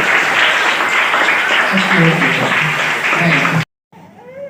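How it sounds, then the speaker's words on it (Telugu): Audience clapping for children at a summer painting and drawing event, a dense steady burst of applause that runs for several seconds and then cuts off abruptly, with a voice speaking faintly over it. "give the big claps"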